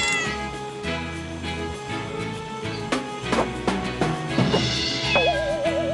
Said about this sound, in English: look, that cat up in the tree